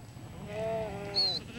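A single sheep gives a short, wavering bleat, fairly close and clear, with a quiet outdoor background, on a farm in the Australian outback during shearing season.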